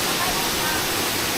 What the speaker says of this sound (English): Beautiful falls here.